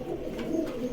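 Pigeons at a pigeon farm in Bogura coo softly, a low throaty murmur running through the moment, fairly close but quiet.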